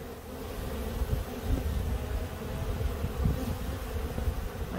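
Bees buzz steadily around a beehive, a dense droning hum that stays close and continuous throughout, with no talking.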